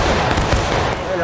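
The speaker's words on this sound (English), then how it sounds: "Check. Aiming. Fire." Musket volley in the video game War of Rights, a dense roaring crackle of many guns firing together, loud and close, filling the whole brief moment with voices mixed in.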